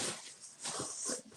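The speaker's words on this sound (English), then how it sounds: "That's just my dog." A dog whimpers and wheezes faintly close by, a brief series of soft whines and snuffling breaths in a quiet room.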